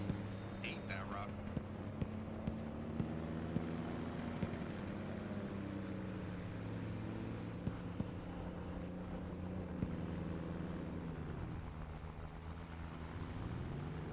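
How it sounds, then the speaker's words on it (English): A military truck in the video game Squad drives along with a steady low engine drone and shifting gear whine, moderately loud, while a voice talks quietly over it. "That truck just ate that rock."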